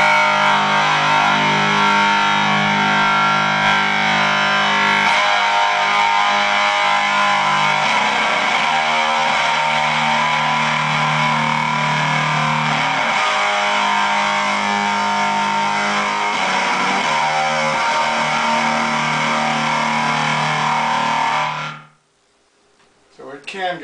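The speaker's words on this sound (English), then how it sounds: "I pulled out my Dan Electro French Toast. I got it set on the distortion right now." An electric guitar played through a Danelectro French Toast pedal set to distortion, sustained fuzzy chords ringing loud and steady for about twenty seconds before cutting off abruptly into near silence.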